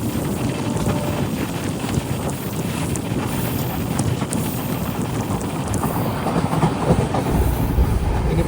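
A Konkan Railway train rolls along the track during the monsoon, giving a continuous loud rumble and rattle mixed with heavy wind buffeting the microphone, with no pauses.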